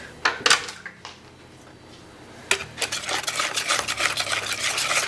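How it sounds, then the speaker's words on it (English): Banana bread batter being whisked in a bowl: quiet at first, then from midway a steady run of quick scraping, clicking strokes against the bowl that continue to the end. "I'm going to use a whisk to help combine that"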